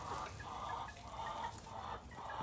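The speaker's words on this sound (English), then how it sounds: "I think that's a rooster" A rooster hiding with other chickens gives soft, repeated clucks, faint and fairly close, over a low steady background hum.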